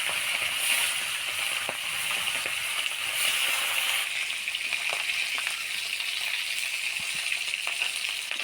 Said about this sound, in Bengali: তো এবার মাছগুলা ভাজে নেব।